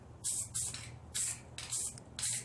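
Short, close hissing bursts from a spray can coating seat trim on a Yamaha V Star 1100 bobber, about five in a row with brief pauses between them.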